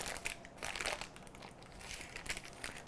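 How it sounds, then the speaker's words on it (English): Parchment paper being folded down from the sides of a freshly baked Basque cheesecake, giving a soft continuous crinkling and crumpling close by and quiet, with no talking. "So now I'm just gonna fold down the parchment."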